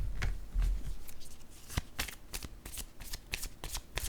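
Playing cards riffled and shuffled by hand, a run of crisp flicking bursts with a few sharper snaps, close and fairly quiet, no talking.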